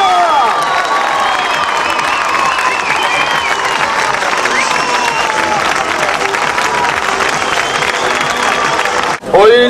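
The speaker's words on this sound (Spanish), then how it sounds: "recibimos con ese aplauso, como se merece, con ese griterío de aquí del pueblo de Villagosta" Sustained applause mixed with shouting and cheering from townspeople of Villagosta welcoming Antonio García at a tribute, loud and continuous, then cutting off abruptly near the end.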